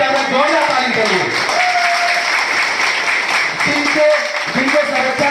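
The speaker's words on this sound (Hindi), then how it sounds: "जोरदार ताली करिए" Applause from a seated audience at a direct-selling business leadership seminar, steady clapping filling the whole stretch with a voice speaking over it through part of the time.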